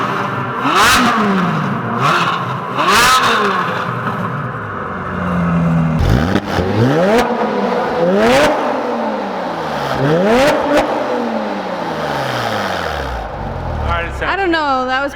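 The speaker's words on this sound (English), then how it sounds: "So we're gonna do some rev battle between the 2 cars here." A widebody Porsche and a second car rev their engines in turn inside a parking garage, the sharp rising and falling revs echoing loudly off the concrete, with voices talking between the bursts.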